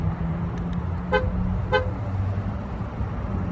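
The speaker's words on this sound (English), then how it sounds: "that's why I was honking" Two short beeps of the horn on a BMW F30 335i sound close up over the steady hum of the running engine.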